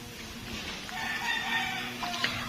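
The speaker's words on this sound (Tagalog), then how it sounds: "may manok pa si kuya, pang sabong" A fighting rooster (gamecock) crows once, a single moderately loud call over low background hum in a rural yard.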